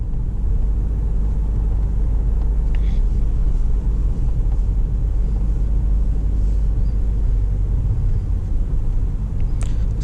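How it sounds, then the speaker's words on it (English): A Toyota Innova HyCross hybrid climbs an incline on its combustion engine, heard from inside as a steady low engine drone and road rumble throughout, with a few faint clicks. "Since this is an incline, it would be running off the ICE mode for the most part."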